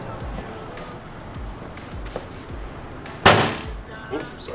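A single sharp door slam bursts out near the end, loud and close, over a quiet room with faint background noise.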